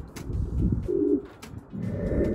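Pigeons in a breeder cage coo softly at close range, a few low rolling coos rising and falling over a couple of seconds, with faint bird chirps in the background.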